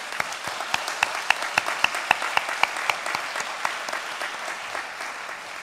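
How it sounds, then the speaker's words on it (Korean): Church congregation applauding at the close of a Sunday praise service, a steady wash of many hands with sharper individual claps standing out, moderately loud and fading slightly toward the end. "영광의 박수를 올려드리도록 하겠습니다."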